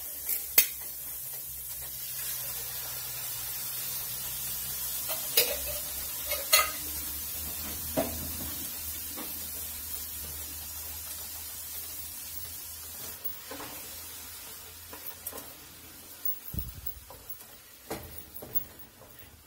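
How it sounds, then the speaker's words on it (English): Diced tomatoes from a can stirred into sausage in a frying pan, with a low steady sizzle running throughout and occasional soft clicks and scrapes of a spoon against the pan, close and quiet. "take the can of diced tomatoes and stir that into"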